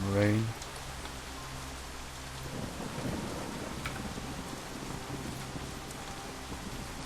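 Rain and a rolling thunder rumble in the video game Shadowrun Hong Kong, a short tonal game sound at the start giving way to steady rainfall with a low thunder swell.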